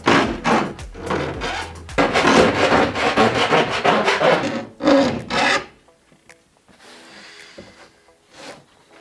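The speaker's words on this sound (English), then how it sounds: "right now we just need to file back some of the edges, because it's a little bit snug in some areas." A hand file rasps back and forth along the metal edges of a van roof cutout made for a roof fan. The fast, gritty strokes are loud and close for about five seconds, then faint scraping follows in a quieter stretch.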